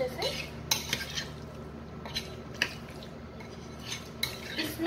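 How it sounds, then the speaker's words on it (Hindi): A spoon stirring hung curd, vegetables, black pepper and chili flakes in a bowl for a healthy sandwich filling, giving soft scraping and several light clinks against the dish, close and quiet, with no talking. "अब मैं इन सबको अच्छे से मिक्स करूंगी"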